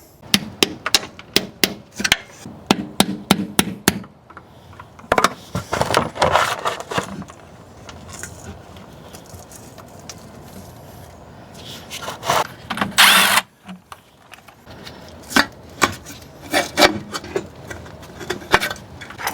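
Work on a Chevrolet Tahoe rear axle: sharp hammer strikes and metallic clanks in bursts, a whirring power tool run, and loose metal parts rattling, close up with pauses between.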